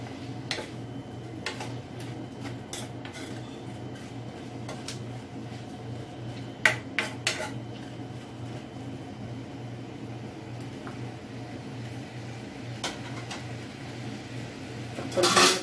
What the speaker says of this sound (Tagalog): Haluin po natin siya ng mabuti.